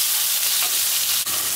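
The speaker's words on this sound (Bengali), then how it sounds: "আমি এটাও লো টু মিডিয়াম হিটে ফ্রাই করে নিচ্ছি।" Shrimp fry in oil in a pan over low to medium heat, giving a loud, continuous crackling sizzle close by with no talk over it.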